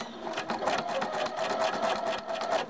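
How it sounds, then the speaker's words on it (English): A sewing machine stitching across the folded fabric edges of a diaper cover, a steady, fast mechanical whirring hum with rhythmic needle clatter, close and continuous without any speech. "just sew across"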